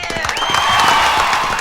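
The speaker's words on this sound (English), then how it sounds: "So big round of applause for that." Studio audience clapping briefly for a radio show, a dense burst of hand claps with a few whoops, close and fairly loud for under two seconds.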